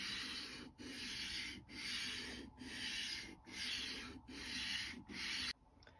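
Rotary cutter blade drawn back and forth through a sharpener, a close, rhythmic gritty rasping in about six even strokes with brief gaps, ending in a soft click.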